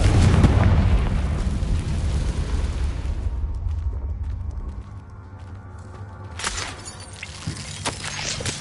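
A Confringo fire spell exploding in Hogwarts Legacy: a loud blast up front decaying into rumble, then a sharp crackling burst later, with no talk.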